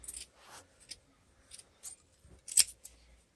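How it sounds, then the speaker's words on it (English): Scissors snipping through the fabric selvage of an acoustic absorption panel, a few quiet separate cuts close by, with one sharper metallic snip near the end. "we're going to get our scissors and cut out the salvage bit there"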